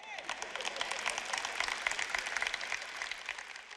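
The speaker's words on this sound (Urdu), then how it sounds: "صرف ادھر کے لوگ تالیاں بجا رہے ہیں" Part of a lecture hall audience claps in a scattered, uneven patter at moderate distance, with some voices mixed in beneath the clapping.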